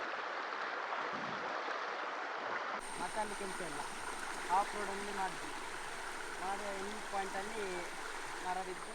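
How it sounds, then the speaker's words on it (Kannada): A river flowing over stones on an off-road bike trip, a steady broad rushing and gurgling close by, with someone talking over the water noise for most of the stretch. "ಈ ನದಿ ಇಲ್ಲಿಂದ ಹರಿದು ಸೀದಾ ಕುಮಾರಧಾರ ನದಿಗೆ ಸೇರ್ತದೆ"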